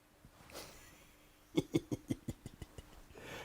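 A cat meows in a series of about six short, evenly spaced bursts, nearly identical in shape and fading slightly in loudness, over quiet background hiss.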